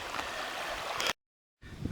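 Roaring Run, a trail stream swollen after rain, makes a steady rushing water sound nearby. The sound breaks off briefly near the middle and then resumes.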